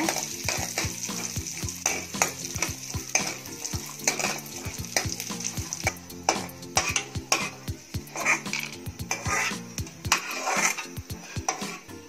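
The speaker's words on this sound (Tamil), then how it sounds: "திராட்சை நல்லா வீங்கி பால் பாலாக வர வரைக்கும் பொன்னிறமாக வறுத்துக்கோங்க" Raisins fry in ghee in a metal pan for a sago and vermicelli milk payasam. A busy run of rapid spatula scrapes and ringing metallic clinks rides over a constant sizzle, close and lively, with no voices.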